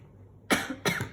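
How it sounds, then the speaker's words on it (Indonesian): Two close, sharp coughs from one person, about a third of a second apart, after a brief quiet moment. "Maaf ya, aku batuk."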